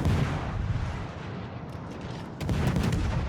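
Naval guns firing in a World of Warships-style battle game as a Gearing destroyer fights, with a dense, rumbling barrage of booming shots that swells again near the end, continuous and loud.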